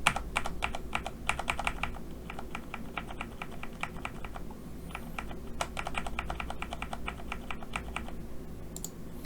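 Rapid, steady typing on a computer keyboard while working through a PowerPoint exam task: close, crisp keystrokes in quick bursts separated by brief pauses, with no talking.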